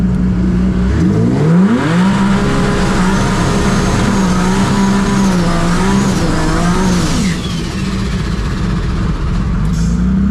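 A 2500hp Toyota Supra race car accelerates hard at a drag racing event, its engine roaring loud and close with rising revs, a brief tire squeal, and a shift or lift near the end.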